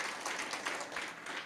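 Church congregation clapping during an Indonesian worship service, a dense continuous patter of many hands, moderately loud and even throughout.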